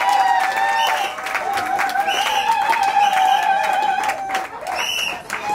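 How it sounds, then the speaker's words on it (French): Applause and cheering from guests in a hall for the bride's mother at a civil wedding ceremony, a steady, full burst of clapping lasting several seconds with voices mixed in. "Applaudissez pour la maman."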